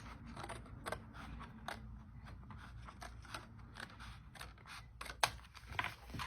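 Scissors snip along the edge of card paper in a quick, regular run of close, crisp cuts over a low background hum.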